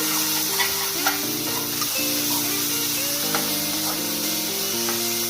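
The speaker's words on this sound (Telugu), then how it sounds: "ఈ గ్రేవీ అనేది బాగా వేగాలండి" Gravy for a catering-style pesara punugula curry fries in a pan with a constant loud sizzle and hiss, broken by soft clinks of a spoon scraping and stirring, close up with no voices.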